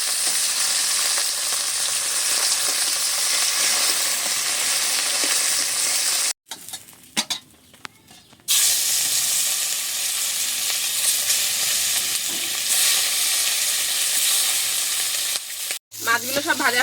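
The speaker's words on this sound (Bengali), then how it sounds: "আর বাদ বাকি মাছগুলো ভেজে নেব।" Fish fry in hot oil in a kadai pan with loud, continuous sizzling that stops briefly partway through and then resumes steadily.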